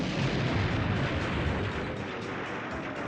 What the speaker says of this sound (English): Interesting N64 explosion there.